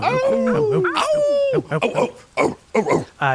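Several people imitate dog barking and howling with their voices, overlapping yaps and drawn-out howls, loud and close, followed by short bursts of mock arfs.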